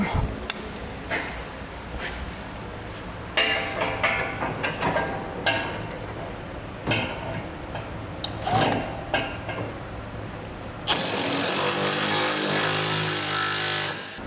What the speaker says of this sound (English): Now we can tighten the two bolts that connect our rear brace to our center section.